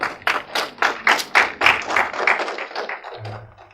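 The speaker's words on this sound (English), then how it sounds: "Give him a big round of applause." Scattered clapping from a small audience at a blockchain conference in Ghana, a dozen or so distinct claps in a loose rhythm that thins out and fades after about three seconds, ending with a low hum.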